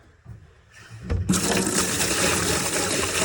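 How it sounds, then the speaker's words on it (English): Tap water gushing loudly into a sink as a carburetor from a 1967 Plymouth Barracuda (Carter BBD) is rinsed out, starting with faint clinks then a sudden, steady rushing stream, no voices. "I'm gonna take this over the sink and rinse it out really good"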